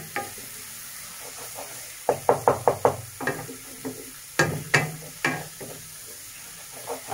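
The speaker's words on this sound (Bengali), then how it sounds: "আমি বারবার এটা নাড়াচ্ছি কারণ হচ্ছে যাতে পেঁয়াজটা নিচে না ওভেনে ধরে যায়, পুড়ে না যায় জন্য।" Onions sizzle in a pan for a Bengali bhola fish curry while a spoon stirs them in quick rhythmic scraping strokes. The stirring comes in two clusters of knocks over a low, steady fry.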